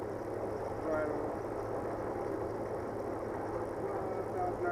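A light aircraft piston engine idles steadily at around 1,000 RPM, a low, even drone heard from inside the cockpit with constant hum throughout.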